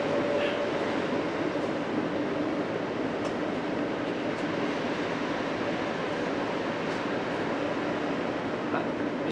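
Train running on rails on a route to Venice, a steady rumbling interior roar with faint periodic clicks, continuous and even throughout.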